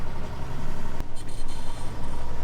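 An old tractor engine runs steadily at idle, a low continuous rumble with a faint vibration, fairly close, with a brief click partway through and no talking, at a farm grain store.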